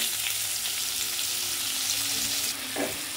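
Chopped onion frying in oil gives a steady, bright sizzle that stays even, with a brief stir or clatter toward the end.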